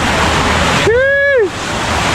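Cold spring water pours continuously into a bathing pool at Malinao Resort in Laguna, a steady, loud, close rushing wash that runs throughout, with a brief voiced tone rising and falling over it midway.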